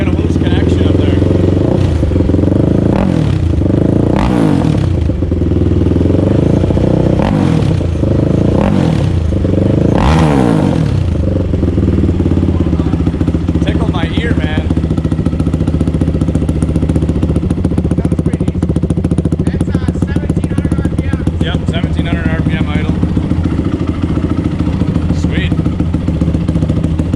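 A 2004 Honda TRX450r ATV fitted with a DASA Racing exhaust idles with a loud, steady low rumble and is blipped through several sharp revs in the first ten seconds, then settles back to a throbbing idle.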